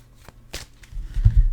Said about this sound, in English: We're going to fast shuffle.